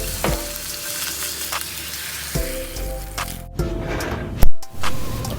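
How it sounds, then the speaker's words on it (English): Green chilies and other ingredients sauté in a pan for a vegetarian Gopalkala, with a continuous crackling sizzle under irregular scraping stirs and a louder clatter near the end. "Saute a while till all the ingredients release their flavors"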